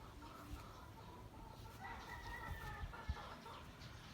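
Chickens in a small backyard coop, with soft clucking and low fowl calls spread across the scene under a steady background hiss, fairly quiet and close.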